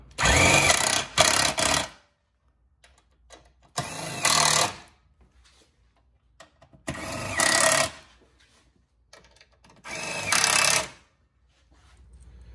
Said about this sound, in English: take your T27 Torx bit, tighten them down